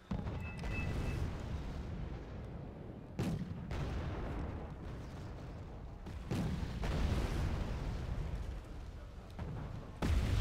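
Artillery fire in the Wargame Airland Battle real-time strategy game, with a dense rumbling barrage of repeated booms and blasts that runs almost without a break and is punctuated by sharper impacts.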